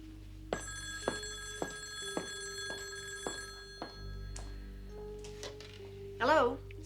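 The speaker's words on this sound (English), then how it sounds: "I want to get that phone." A telephone bell rings repeatedly in steady pulses indoors, then stops; a voice speaks briefly at the end.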